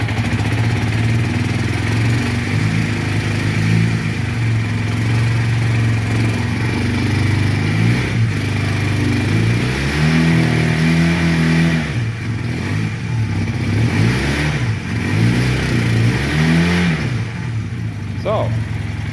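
A Honda CM400E motorcycle engine, cold-blooded and started without the choke, turns over, catches and runs, with loud, uneven revs rising and falling through the clip before settling into a rough idle.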